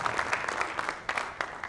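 An audience at a district candidates night claps in a brief burst of applause, scattered hand claps mixing into a moderate patter from a small crowd.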